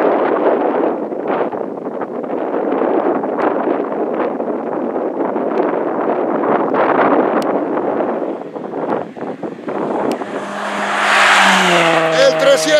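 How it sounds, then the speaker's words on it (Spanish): A rally car passes during a stage of the Caminos del Inca race in Peru, its engine roaring steadily and loudly with wind buffeting the microphone, then fading as other sounds and a voice briefly come in at the end. "Y otro coche a la vista."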